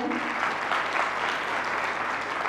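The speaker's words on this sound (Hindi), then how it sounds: "ताली बजाएं" An audience at a meditation session claps together in a dense, sustained round of applause. It stays loud and continuous throughout, with no speech over it.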